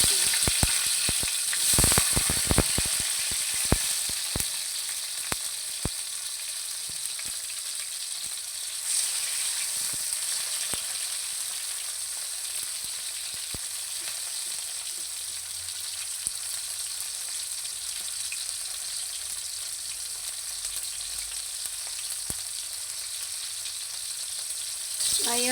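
Tomatoes fry in cooking oil in a pan for a crab stick omelette, a loud continuous hissing sizzle with occasional scraping stirs and clatters, and no one speaking.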